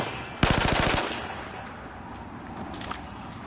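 A Battlefield 4 gun fires one rapid automatic burst of about half a second, loud and close, followed by near quiet with a few faint distant shots later.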